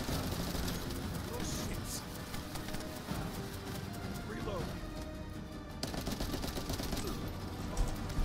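Gunfire pours into the Dead Bride boss in The First Descendant, a continuous rapid stream of shots heard under steady talking, with a brief break near the middle.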